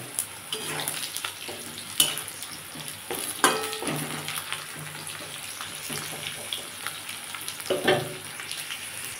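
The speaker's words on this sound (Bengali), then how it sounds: "আমি তেলে উচ্ছেগুলো দিয়ে দিয়েছি। এটাকে আমি ভালো করে এবার ভেজে নেব।" Pieces of bitter gourd frying in hot oil in a home kitchen for Bengali shukto, a steady low sizzle with a few louder stirring clatters, heard alone without talk.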